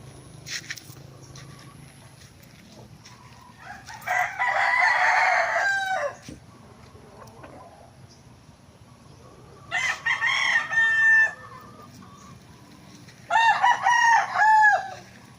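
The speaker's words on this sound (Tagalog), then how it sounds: "Ito mga boss, nag-i-start pa lang ako magpadami ng manok." Three bursts of rooster crowing, loud and harsh, spaced several seconds apart, with soft hen clucking in the quiet gaps between, in a backyard chicken farm.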